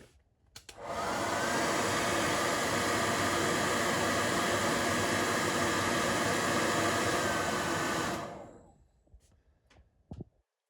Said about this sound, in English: Give that another blast with the hair cleaner, hair dryer I should say.